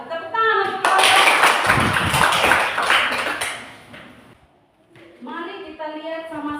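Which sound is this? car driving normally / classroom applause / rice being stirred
classroom applause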